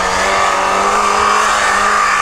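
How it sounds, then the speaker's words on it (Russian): A Lada Niva climbs a steep hill in a king-of-the-hill off-road contest, its engine roaring loud and close in a sustained, straining drone at high revs throughout. "Мотор ревет."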